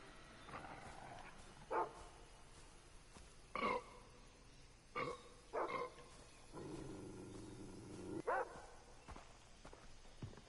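Dog growling and barking in Far Cry 3, a handful of short rough bursts spaced irregularly over quiet ambience, with a longer low rumbling growl midway and footsteps between.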